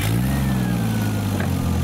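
Toyota Chaser engine running and revving close by, a loud steady mid-pitched drone that rises slightly in pitch, with no talking.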